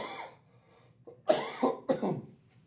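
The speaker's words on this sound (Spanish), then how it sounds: "que la tos todavía no se me ha ido?" A person coughs a few times nearby, a short throat-clearing hack followed by two harsh, close coughs about half a second apart in an otherwise quiet room.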